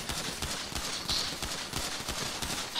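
Gunfire in GTA 5 comes as a dense, steady stream of rapid shots, loud and close, crackling without a break across the whole moment.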